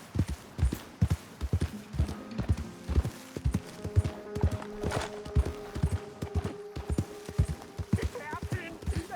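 Horse hooves gallop in Red Dead Redemption 2, a fast, steady clip-clop rhythm heard close throughout with light background game sounds.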